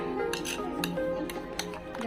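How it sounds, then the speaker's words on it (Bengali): A spoon working eggs and sugar together in a bowl for a rice-flour cake, with faint, irregular clinks and scrapes against the bowl under a steady low background hum. "ডিম এবং চিনি ভালোভাবে যেন গলে যায় সেজন্য উইক্স দিয়ে আপনারা করতে পারেন, আর চামচ দিয়ে করলে একটু সময় লাগে।"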